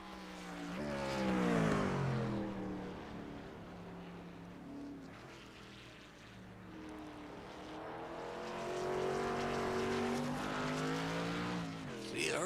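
A short track race truck circles a turn, engine note rising and falling as it comes off the throttle and accelerates away, fairly loud and continuous throughout with a commentator talking over it.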